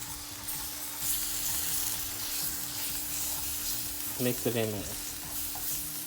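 Thick cream of mushroom soup is stirred into cornbread dressing in a pan, a steady wet scraping and sloshing under a constant hum, with a brief spoken phrase near the end.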